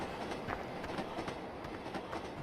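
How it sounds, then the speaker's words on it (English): Train rolling past in a farming video game, a faint, steady rumble with rhythmic clickety-clack of wheels over rails throughout, with no talk. "There goes the train."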